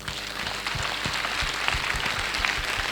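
A congregation at a church gathering claps for Jesus Christ, sustained applause from many hands mixed with a few cheers, steady and moderately loud throughout.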